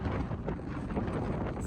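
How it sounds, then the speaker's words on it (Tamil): Strong wind roars across the open deck of a cruise ship at sea, a steady, close buffeting rush that batters the microphone throughout. "பயங்கரமா காத்தடிக்குது"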